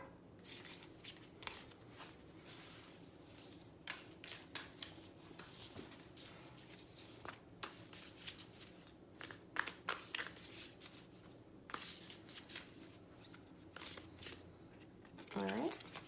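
Moonology oracle cards are shuffled in repeated quick riffling bursts, crisp and close, with a person talking throughout.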